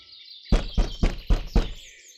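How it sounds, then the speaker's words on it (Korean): Five firm knocks on a wooden gate door of an old manor, evenly spaced and close, each a dull thud, with no voices around them. "이른 아침 이가장의 문을 두드리는 사내가 있었다"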